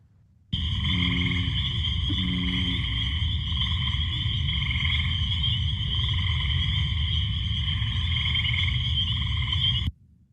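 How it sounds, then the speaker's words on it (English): Field recording of four frog species calling together, a dense continuous chorus of layered trills and croaks at steady loudness throughout, with a few short pulsed calls near the start. "There are 4 frogs calling in this little recording."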